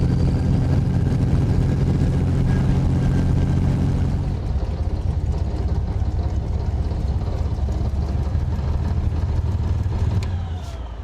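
A Rolls-Royce driving along, its engine giving a steady deep drone that eases off and settles lower partway through, then fades at the end.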